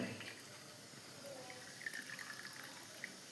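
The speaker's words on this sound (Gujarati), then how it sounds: "આ બધું જ પાણી એમાંથી નીકળી જવું જોઈએ" Whey water drains from homemade paneer-like cheese in a soft, faint, steady trickle with a few small drips, and no talking.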